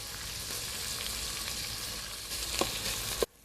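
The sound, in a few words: beef searing in a pot for vegetable beef soup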